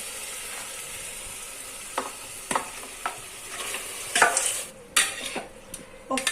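Marinated chicken sizzles in a tomato and curd gravy, a steady close frying hiss punctuated by several sharp spoon scrapes and clinks against the pot as it is stirred.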